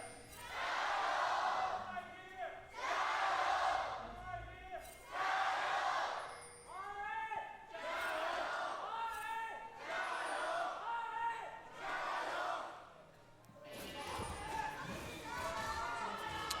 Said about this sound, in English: Well, the crowd's out in full force today, aren't they?